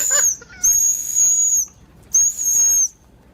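Two long, high, steady whistle tones, each lasting about a second, with short gaps between them, loud and close with no talking.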